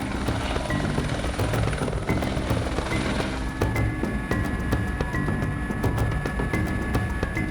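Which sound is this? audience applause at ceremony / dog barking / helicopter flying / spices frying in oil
helicopter flying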